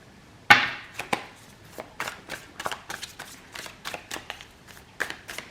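Tarot cards being shuffled for a reading: one crisp opening riffle, then a quick, uneven series of papery snaps and slaps, close and clear, with no talking.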